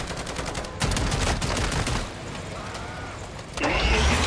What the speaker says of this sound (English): Sentry gun deploy!